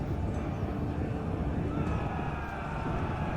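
Horses whinnying in a medieval battle video game, heard amid a dense rumble of charging hooves and battle noise, with the neighs fairly prominent over the din.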